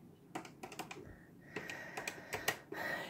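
Keys on a TRS-80 Color Computer keyboard are pressed in short, uneven bursts of sharp clicks, close and fairly quiet, with no talking over them.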